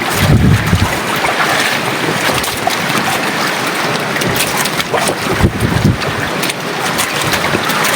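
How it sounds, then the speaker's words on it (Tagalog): Typhoon wind roars across a stormy sea off an island while heavy waves surge and crash; the loud, continuous blustery rush buffets the microphone throughout, with no voices. "Yan ang dagat mga idol oh."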